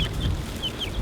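Chickens kept indoors out of the cold give a few soft, brief clucks and chirps, spaced unevenly over a low background hum.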